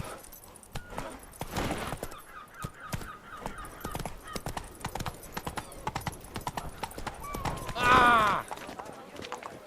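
Roach, a horse in The Witcher 3: Blood and Wine game, gallops with quick, sharp hoofbeats clattering throughout, with a brief whinny and voices heard between the strides.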